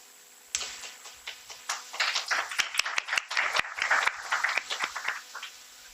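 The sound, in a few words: audience applause after a panel speaker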